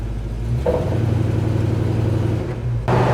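A 1957 Chevrolet 3100 Stepside pickup truck being put into drive and pulling away, its engine a loud, close, low rumble that steps up in pitch as it moves off, with a brief dip before surging again.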